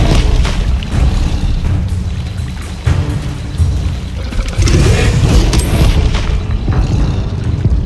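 Bombarda blasting spell going off in Hogwarts Legacy, a series of heavy booming explosions with rumbling debris, loud and close, alone without talk.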